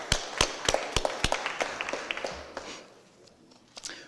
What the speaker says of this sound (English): Join me in a round of applause for Farrakhan.